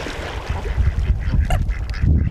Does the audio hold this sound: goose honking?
yes